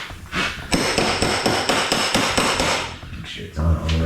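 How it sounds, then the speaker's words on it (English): Impact wrench on a coolant hose part of a 1999 BMW 328i E46, a loud, rapid hammering rattle that runs for about two seconds at close range and then stops. "we're gonna just put the impact wrench on this thing and just hope for the best"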